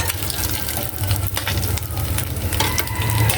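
Dried salted fish frying in a pan, a steady close sizzle and crackle of hot oil with faint stirring clinks.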